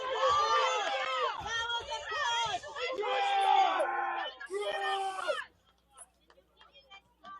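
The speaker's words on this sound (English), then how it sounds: "So as we can hear, the crowd is pretty amped up here." Home crowd at a high school boys soccer playoff game cheering and whooping loudly, a burst of excited shouting voices that drops away abruptly into near quiet with faint chatter.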